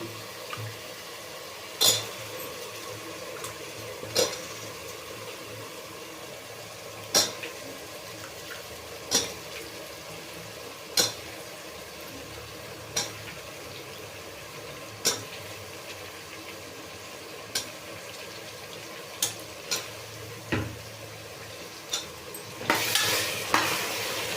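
Vegetables fry in a pan for pulao, a steady low sizzle punctuated by regular sharp clinks and scrapes of a spoon stirring, roughly every two seconds, ending with a louder burst of sizzling.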